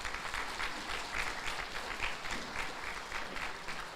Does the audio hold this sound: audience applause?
yes